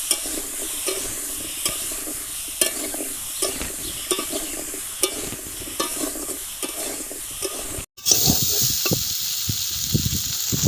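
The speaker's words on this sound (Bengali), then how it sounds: "সুন্দরভাবে এইগুলো তিনটে সবজিকে আমি ভালো করে ভেজে নেব।" Three vegetables with turmeric frying in a pan while being stirred, a close sizzle broken by repeated scraping strokes of the spoon, then a brief drop to silence before a louder, brighter sizzle resumes.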